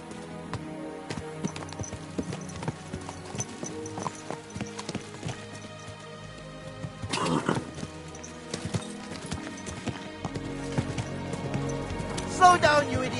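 In the medieval game Kingdom Come Deliverance 2, horse hooves clip-clop in an uneven walking rhythm, with a brief whinny, soft rain and occasional speech in the background.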